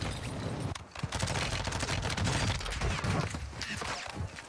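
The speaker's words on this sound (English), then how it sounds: "that's you guys shooting" Rapid bursts of automatic gunfire from teammates in the shooter game Warzone, dense overlapping shots crackling steadily for several seconds at close range.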